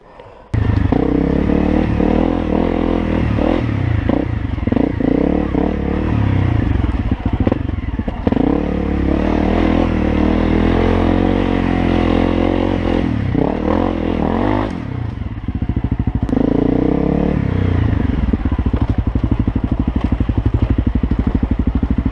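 A Honda CRF250L dirt bike ridden on rough single track, its engine droning loud and close with rattling clatter and bursts of its skid plate scraping over ground, then a brief dip near the end before the engine picks up again.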